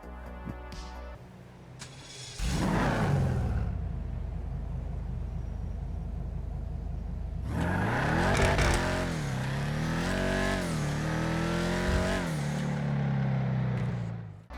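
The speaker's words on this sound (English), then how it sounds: "It feels like it doesn't rev all the way out to the red line like all the other cars." A muscle car engine in GTA V idles low, then revs hard in loud surges, dropping back between long, roaring pulls, close and continuous.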